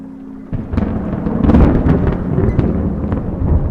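Deep rolling video game thunder rumbles and cracks, loud and sustained, building after a quiet start with no talking.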